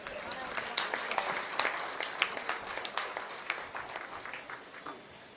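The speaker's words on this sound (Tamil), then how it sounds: "ஏன் அவருக்கு இவ்வளவுதான் கைதட்டுறீங்க?" Audience applause at a public speech event, a crowd clapping in scattered bursts that rise and fade over several seconds, moderately loud with a busy room behind it.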